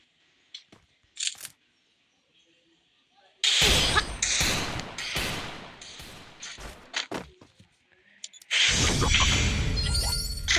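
Gunfire in a shooting video game: sharp bursts and single heavy shots in clustered volleys, loud and close, separated by quiet gaps, with faint voices in between.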